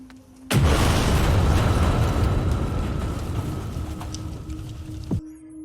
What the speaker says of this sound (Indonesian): mobil Abang Gila meledak seketika